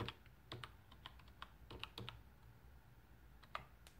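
Keys clack on a keyboard attached to a Raspberry Pi 3B+ running Kano OS, a scatter of light, irregular taps with pauses between them, near and quiet, with no voices.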